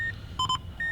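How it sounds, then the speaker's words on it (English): Several short electronic beeps come from the key presses of an aftermarket car radio being set up in a 2012 Mazda 2, with a few quick tones in a row under faint background noise. "turn off that annoying key beep if you want to"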